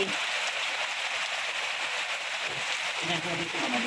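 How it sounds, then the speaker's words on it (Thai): Heavy rain pours down steadily in a broad, even hiss, with water running, while people talk over it. "ดู ตก แรง พอสมควรค่ะ น้ำ ไหล น้ำ ไหลแล้วนะคะ ฝนดี"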